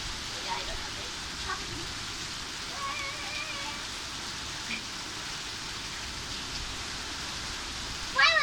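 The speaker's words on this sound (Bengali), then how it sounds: "দেখো পুরো বৃষ্টিটা, এমন পরিমাণের বৃষ্টি পুরো।" Heavy rain pours in a steady, even hiss that lasts throughout, with faint scattered sounds underneath.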